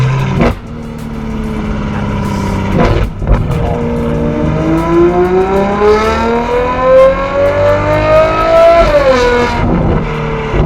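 A Ferrari 812 GTS engine with a Novitec exhaust revs hard and loud, pitch climbing steadily over several seconds before dropping, with a sharp exhaust pop near the start.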